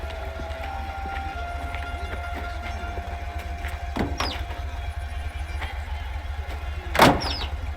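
A car arrives to pick up the player in Mafia: The Old Country, set in 1906 Sicily. A low, steady engine rumble runs throughout, with a few brief clatters and thumps over it.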